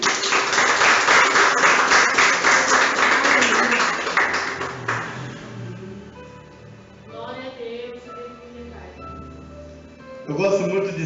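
Dense applause fills the first several seconds, then fades out, leaving quieter sounds and a voice near the end.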